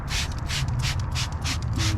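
CarPro WheelX wheel cleaner is sprayed onto a car wheel outdoors in repeated hissing bursts, about six quick trigger sprays at a steady rhythm, close and clear over a low breezy rumble.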